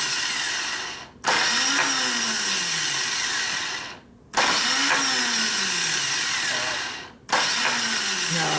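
Starter cranking a 1989 Harley panhead with a 93ci stroker motor: three loud, sustained bursts of whirring mechanical churning, each lasting about three seconds and separated by short pauses, close up with no talk.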